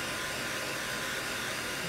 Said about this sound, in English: I'm just hitting this with the hair dryer to help dry it a little bit quicker than normal.